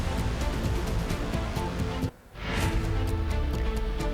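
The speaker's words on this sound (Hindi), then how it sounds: "आज बांद्रा में समुद्र में उठी ऊंची लहरें" High sea waves at Bandra, Mumbai, give a steady, broad surf roar with a brief drop midway before the rushing water surges back.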